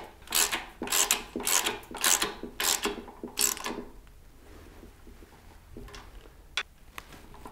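A wrench clicks and rasps in short bursts at close range as nuts are tightened on a classic Mini front subframe assembly, followed by quieter metallic fiddling and a few isolated ticks.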